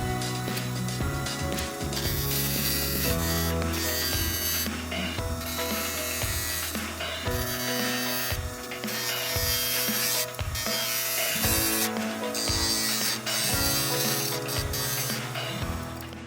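A wooden garden dibber spins on a lathe while a bead decoration is cut where the tool body meets the handle. A continuous close whirring hum carries a steady rhythmic chatter of the tool scraping the turning wood.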